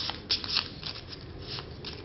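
Playing cards being shuffled, a steady papery riffle and flutter with a couple of sharper bursts, close by and fairly quiet.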